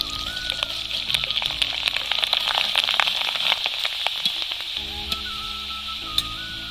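Puffed rice frying in hot oil inside a strainer over a high flame, for crisp Kolkata-style chal bhaja: a dense, steady crackling sizzle that runs close and loud throughout, with sharp pops scattered over it.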